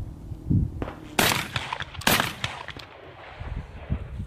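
Two sharp, fairly distant shotgun blasts from a Beretta A300 Ultima at an outdoor range, about a second apart, with faint background noise between them.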